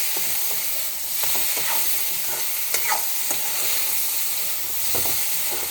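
Fish coated with turmeric sizzles steadily in a hot pan, with a continuous hissing fry and occasional scraping and stirring clicks of a utensil, close and moderately loud.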